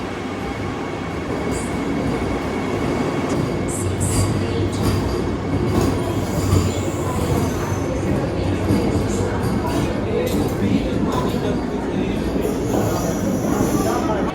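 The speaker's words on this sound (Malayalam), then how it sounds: "ഇത് MGR ചെന്നൈ സെൻട്രലിൽ നിന്ന് കോയമ്പത്തൂർ വരുന്ന വന്ദേ ഭാരതാണ്" The Vande Bharat express from Chennai Central to Coimbatore pulling into a station, a loud, continuous rumble of wheels on rails with clicking joints and a thin high squeal of the wheels, heard up close.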